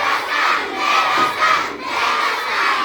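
A crowd of children at a storytelling event loudly shouting a chant together in unison, sustained voiced cries rising and falling over about three seconds.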